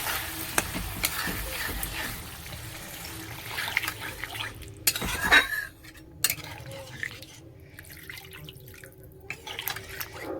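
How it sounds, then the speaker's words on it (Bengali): Water poured into a hot cooking pan for a fish and eggplant curry, giving a steady sizzle with scraping stir strokes and a brief louder splash midway, close and alone without talk. "জল দিয়ে দিচ্ছি।"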